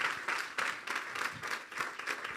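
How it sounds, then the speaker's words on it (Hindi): Church congregation applauding at a Good Friday service, steady dense clapping with rhythmic surges throughout, moderately loud and continuous with no talk over it. "तो ज़ोरदार तालियां बजाएंगे इस खूबसूरत कलाम के लिए।"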